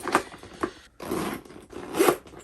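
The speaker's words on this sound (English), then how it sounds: "Zip shut." A Goyard Boeing 25 bag, stuffed full, zipped shut. Two short zipper rasps are followed by a longer, steady pull along the track, close up and alone, with no talking.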